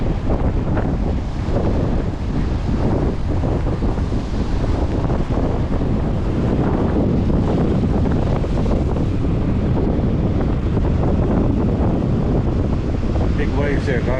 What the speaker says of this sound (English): Big waves there, guys.